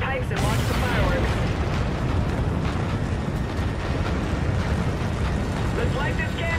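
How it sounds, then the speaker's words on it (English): In the Call of Duty: Infinite Warfare game, a tower detonation sets off a heavy, sustained explosive rumble that rolls on loudly and densely for several seconds. "Tower detonation. Follow these pipes and watch the fireworks."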